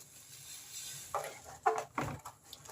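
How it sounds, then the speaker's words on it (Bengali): Govindabhog rice flour is stirred slowly in a pot, a quiet close scraping and stirring with a few louder spoon scrapes against the metal over a faint background hiss, and no talk. "এরকম আস্তে আস্তে দেবো আর এরকম নাড়বো"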